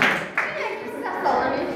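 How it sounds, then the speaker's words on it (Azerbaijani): Clapping from a school classroom audience for the winner of an eighth-grade geography quiz on mineral map symbols, a brief burst of applause with voices mixed in. "alqışlar"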